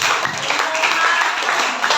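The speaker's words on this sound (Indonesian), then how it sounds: "Tepuk tangan dulu." Short burst of applause from a classroom of students at a teacher-training lesson, a dense steady patter of many hands close by that fills the moment without any talk over it.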